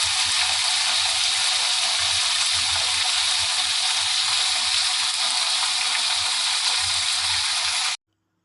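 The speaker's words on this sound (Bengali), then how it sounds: "মাছটা এক পিঠ কিন্তু বেশ লাল করে ভেজে নিলাম" Fish pieces fry in hot oil in a pan for a fish curry, browning on one side; a steady, loud, hissing sizzle runs unbroken for about eight seconds, then stops abruptly.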